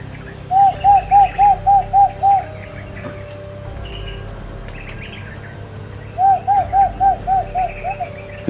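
A bird calling outdoors in two bursts of about six rhythmic cooing notes each, loud and near, separated by a quieter pause with faint background chirps.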